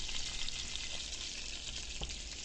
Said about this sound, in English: I just like to sear mine first, and then once I sear them, then I like to go in and boil them